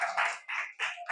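A class clapping hands together in a classroom, in four short bursts of rapid applause separated by brief pauses.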